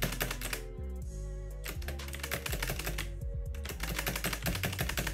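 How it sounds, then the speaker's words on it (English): Loud computer keyboard typing clatters continuously, with rapid, dense keystrokes close up during a game-playing session. "Pardon me for my loud keyboard."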